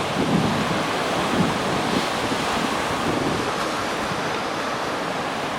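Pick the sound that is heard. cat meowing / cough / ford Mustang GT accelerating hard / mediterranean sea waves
mediterranean sea waves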